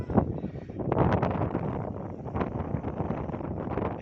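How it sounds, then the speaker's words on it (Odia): Strong wind batters a handheld phone microphone outdoors as rain arrives, a loud, continuous buffeting rumble with gusting bursts and rustling throughout. "ଏତେ ଜୋର ପବନ ହଉଛି ମୋବାଇଲ ବି ହଲଉ ଦଉଛି।"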